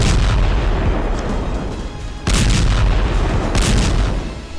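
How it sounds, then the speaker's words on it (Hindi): Heavy bombardment rumbles over Khan Younis in southern Gaza, with dense booming explosions rolling continuously, a brief dip midway before another loud blast surge, distant and powerful with no voices. "और अब भीषण बमबारी की जा रही है"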